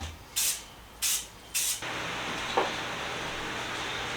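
Three short spray-paint bursts hiss onto a vintage lawn sprinkler, followed by one long continuous spray as a thin coat goes on; close and fairly quiet, with no talking.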